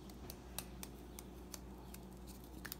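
Scissors snip through paper while petals for a paper rose are cut, a quiet, close run of sharp clicks spaced roughly evenly over a low background hum.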